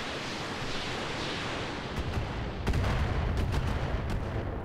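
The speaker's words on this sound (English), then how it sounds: "a little bit of missile fire" Missile volleys in the Roguetech mech video game rumble as a dense, continuous roar of noise, with several sharp cracks and a heavier burst partway through.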